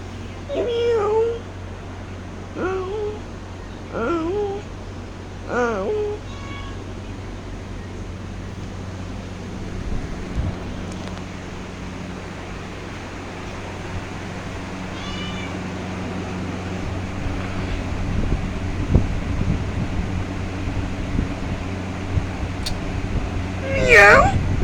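A cat meows several times in short, separate calls early on, then stays quieter under outdoor background noise, with a few more meows near the end and people talking nearby.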